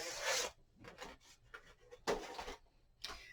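A scoring tool is drawn across paper for a mini album, making short dry rasping strokes, several quick scrapes in uneven bursts with brief pauses, close and quiet.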